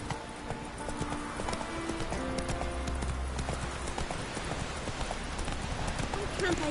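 Hooves of Roach, a horse in The Witcher 3, clip-clop in a steady running rhythm through the whole stretch, close and fairly loud, with game music, ambience and a voice talking over it.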